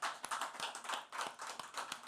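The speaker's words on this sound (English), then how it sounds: "a round of applause for our panelists." Applause from a conference audience for panelists at a COP28 session, a modest group of hands clapping in a quick, slightly uneven rhythm with distinct individual claps, fairly close and without talk.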